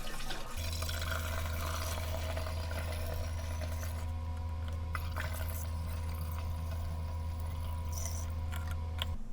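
Tap water pours steadily into a small TIG-welded aluminum tank, a continuous splashing fill that runs unbroken through the whole stretch with no talking.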